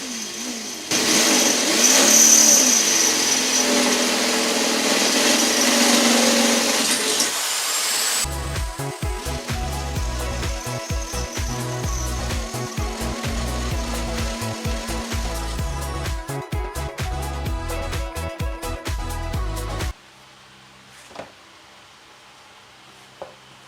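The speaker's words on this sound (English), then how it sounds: "I'm drilling 4 holes in the bottom of the battery tray, one on each corner." A power drill whines at high speed, then grinds and chatters through a metal battery tray of a Mk2 Escort RS2000 in a long steady stretch, stopping abruptly before a few faint knocks.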